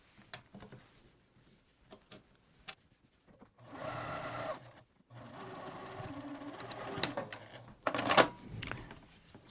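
A sewing machine stitches a zipper pouch. Scattered clicks and handling noises lead into two sustained runs of stitching, with a short pause between them and a louder clatter near the end.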